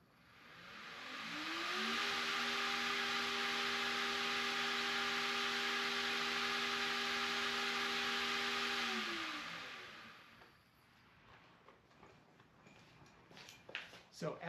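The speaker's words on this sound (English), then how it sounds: "It's just a whirring sound, a little bit of wind sound as the blades spin." Blades of a Yarbo M series robotic mower module whir steadily with a faint rush of air and a tonal motor hum, running loud for about eight seconds before spinning down into quieter background clatter.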